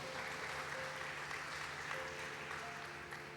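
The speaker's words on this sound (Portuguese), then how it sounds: "aplauda bem alto ao Senhor Jesus" A church congregation applauds at a fairly quiet level, a continuous wash of clapping with a faint steady tone running underneath.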